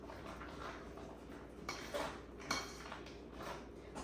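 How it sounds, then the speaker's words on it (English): A spatula scrapes around and under pumpkin brownie batter in a mixing bowl, lifting hidden flour. Soft continuous scraping with a few sharper scuffs and light clinks against the bowl, close and fairly quiet. "you gotta make sure you scrape down underneath because that flour's hiding down there"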